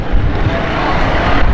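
A motorcycle rides through the streets of Orangi Town, heard up close as a loud, continuous engine rumble mixed with rushing wind noise, with no pauses.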